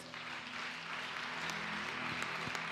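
A church congregation applauding during a service, heard as steady, dense clapping from a crowd throughout, moderately loud with no talking.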